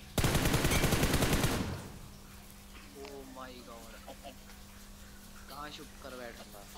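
Dense burst of automatic gunfire in BGMI / PUBG Mobile, loud and fast for about a second and a half, then stopping while someone talks over a steady hum.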